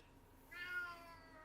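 A domestic cat meows once at a window, a single drawn-out indoor meow that rises and then trails off, fairly faint and close, with no talk.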